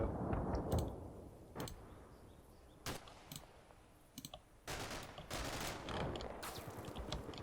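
Gunfire in a war video game of armored eight-wheeled vehicles rings out in scattered sharp cracks and short clattering bursts over a steady low engine rumble, some shots close and loud, others faint and distant.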